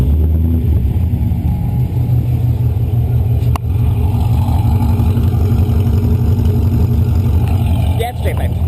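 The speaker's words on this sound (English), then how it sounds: "it's straight pipe. So long tube headers, X-pipe, and an axle back gives us this great sound" An automatic Corvette C6 with a straight-pipe exhaust, long tube headers, X-pipe and axle-back idles loud and close after startup, a deep throbbing burble that holds steady, with a brief sharp click partway through.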